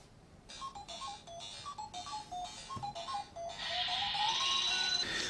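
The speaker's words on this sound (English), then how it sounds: "Finally, I play a little Pac-Man." Pac-Man game sounds play from a Samsung Galaxy A70 smartphone: a rhythmic run of short, bright electronic chirps and bleeps, fairly quiet, then a rising warbling tone near the end.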